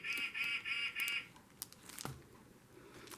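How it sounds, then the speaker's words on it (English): Bird clock chiming on the hour with a repeated bird call, four quick bright honking chirps in a row, close and clear, followed by quieter household clatter and a soft thump. "Every time I get on, I get that clock."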